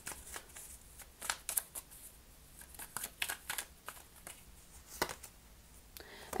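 Tarot cards being laid out and shuffled on a table, a run of soft, close, crisp flicks and slaps at an irregular rhythm, faint and with no talking.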